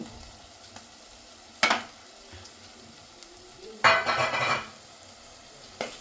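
Coconut chana dal curry stirred in a hot pan, with a low background sizzle broken by three sharp scraping stirs, the middle one longer and louder, close up with no talking.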